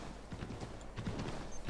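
A horse gallops in Assassin's Creed 3, with quick, regular hoof clip-clops over a loud wash of game ambience and no talk.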